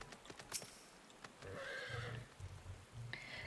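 A horse in Final Fantasy XIV: Endwalker whinnies loudly, followed by a second neigh, over faint hoof clip-clops and quiet ambient game sound.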